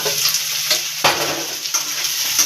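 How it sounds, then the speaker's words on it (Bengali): Potatoes frying and being stirred in a pan for a Bengali small-fish curry, a steady close sizzle with a sharp scrape of the spatula about midway. "আলুগুলো ভালো করে ভেজে নেবো বন্ধুরা।"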